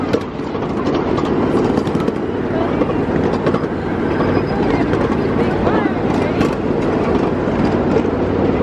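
A live steam miniature train ride rumbles along with a dense, continuous rolling noise and scattered clicks and clatter from the track, loud and close throughout.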